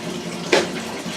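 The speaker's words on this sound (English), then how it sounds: "with water flowing on the bottom." Water runs through a cast iron sewer line under a house being inspected, a steady close wash that surges briefly in the middle before settling back to a low flow.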